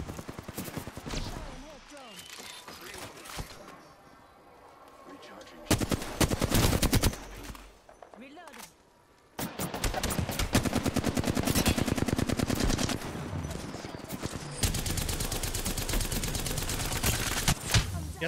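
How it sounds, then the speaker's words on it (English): Heavy automatic gunfire in Apex Legends on the Worlds Edge map, with dense, rapid bursts coming in loud waves, some close and some farther off, broken by short lulls, while a player talks over it. "I'm getting shot at."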